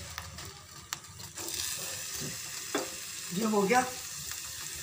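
Finely chopped onions frying in refined oil for baingan bharta, a close steady sizzle with a few clinks of a ladle; a voice speaks briefly near the end.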